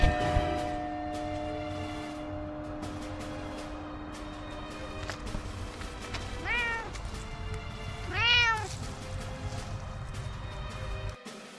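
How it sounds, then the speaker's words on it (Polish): A domestic cat meows twice, a short call and then a louder, drawn-out one a couple of seconds later, close by over a steady background hum with no talking. "Co jest, kociek? Miau!"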